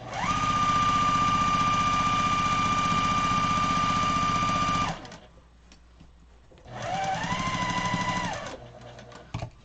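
A sewing machine stitches down the side of an 18-inch fabric pillow, whirring steadily for about five seconds, stopping briefly, then running again in a shorter burst, close and clear with no talk over it.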